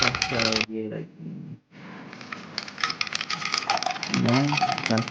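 Ice rattles and clinks against a glass as an iced caramel milk drink is stirred, a busy stream of close, crisp knocking with a brief pause, while someone speaks over it.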